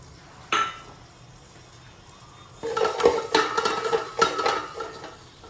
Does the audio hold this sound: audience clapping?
no